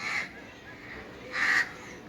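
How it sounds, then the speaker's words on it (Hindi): Crows perched nearby give two harsh caws, one at the start and a louder one a moment later, over faint background noise. "तो इधर कौवे बैठे हुए हैं"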